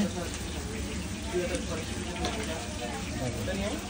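Masala for a 2.5 kg batch of mutton kosha sizzles steadily in a pan, a continuous close frying hiss with faint stirring, unbroken for the whole stretch.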